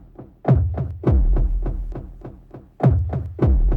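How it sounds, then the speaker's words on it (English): A deep electronic kick drum thumps in a steady pattern with short percussive hits between, loud and punchy, with no talking. "So, very nice kick drum again."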